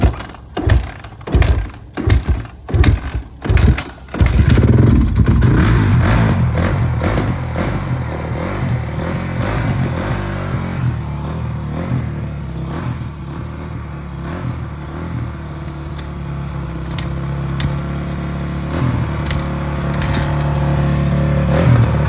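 A 125cc dirt bike engine gets several rapid start attempts with choppy bursts, then catches and runs, revving and idling loudly up close for a long stretch.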